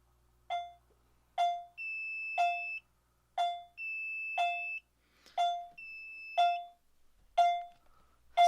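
An electronic alarm sounds repeated short chime strokes, roughly one per second, with a sustained steady tone joining between some strokes. Loud and close, no talk.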